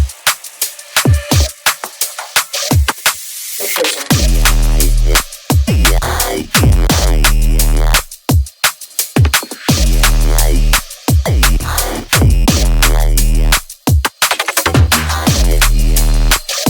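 A drum and bass groove made in FL Studio, with fast, punchy drums and a deep, heavy bassline that drops in after a sparse opening, loud and continuous with no voices.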